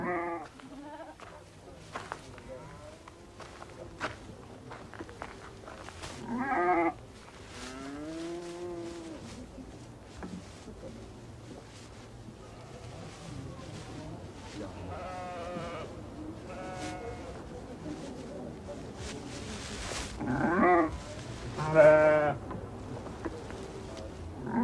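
Goats and sheep bleat repeatedly inside a Ladakh family house where yaks, cattle, donkeys and sheep are kept, the calls rising loud and close, with a bleat cluster near the end, over a steady room murmur and faint voices.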